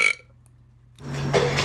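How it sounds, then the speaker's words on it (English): A woman lets out a single loud burp up close just after breakfast, preceded by a brief short noise and a pause. "so like I'm about to burp."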